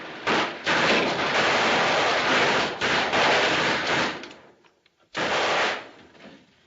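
Dense gunfire from a 1938 film battle scene, loud continuous bursts of rattling shots with short breaks, a near-silent gap, then another heavy burst that fades out.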